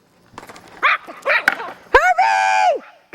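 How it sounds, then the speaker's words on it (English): A small puppy barks and yips in a home, a few short sharp barks followed by a longer whining cry, close and loud, mixed with voices. "And show Murphy barking"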